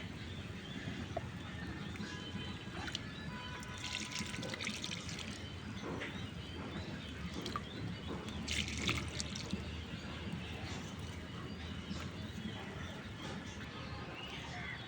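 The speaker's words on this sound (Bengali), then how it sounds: "এই গাছটাতে একটু চাপাতির তরল আমি দিয়ে দিব" Liquid fertilizer made from steeped tea leaves poured from a bottle onto the soil of a flowering potted lemon tree outdoors, a steady trickle and drip of water running continuously at close range.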